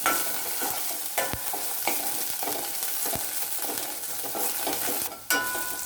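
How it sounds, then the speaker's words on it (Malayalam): Bird's eye chillies, garlic and ginger sizzle steadily in hot oil in a pan for passion fruit rasam, with a spoon stirring through and scraping the pan in irregular knocks, close up and moderately quiet. "കാന്താരിയും വെളുത്തുള്ളിയും ഇഞ്ചിയും കൂടെ ചേർത്താൽ മതിയാവും."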